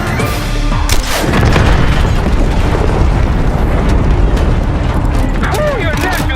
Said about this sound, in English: Fire an RPG at it!